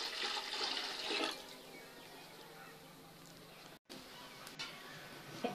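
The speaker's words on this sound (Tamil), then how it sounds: "இப்ப பாத்திரத்துல தேவையான அளவு தண்ணி ஊத்தி வச்சுக்கோங்க" Water splashes into a cooking pot for about a second, then a quiet, steady trickle continues at low volume, while cooking gongura leaf kadaiyal.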